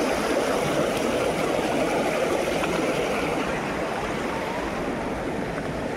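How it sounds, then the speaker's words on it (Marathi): A stream runs hard during heavy monsoon rain, a dense, loud, unbroken rush of water that fills the whole stretch evenly with no pauses. "आणि पाण्याचा पण आवाज बघा"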